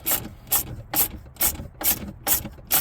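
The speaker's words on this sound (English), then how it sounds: "So we're gonna take our 10 millimeter, just like so, with an extension." A 10 mm socket ratchet with an extension loosening a bolt, giving six evenly spaced rasping clicks close to the listener, with no voices.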